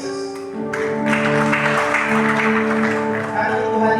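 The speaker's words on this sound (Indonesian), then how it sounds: "Tepuk tangan dulu buat Tuhan Yesus." Church congregation at a Christmas service applauding together, a sustained broadband clatter of clapping that swells after a half-second and holds steady under keyboard music.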